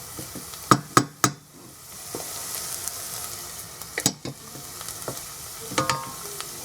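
Onions frying in a pan, cooking down until soft and tender, with a steady low sizzle and a few sharp clacks of a utensil stirring and scraping the pan, heard up close with no talking.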